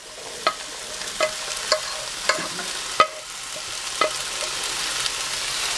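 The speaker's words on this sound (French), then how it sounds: "je vais rajouter les pois chiches" Rinsed cooked chickpeas are stirred into vegetables frying in a cooking pot: a steady sizzle runs underneath while a utensil scrapes and knocks against the pot in distinct strokes, roughly one every second.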